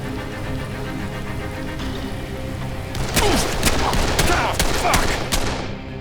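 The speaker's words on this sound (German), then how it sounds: "Die Deppen schießen auf mich." Gunfire aimed at the player during a firefight at a pump station in the video game Dead Island, a burst of rapid shots over a steady rumbling backdrop, loud and close, ending after a few seconds.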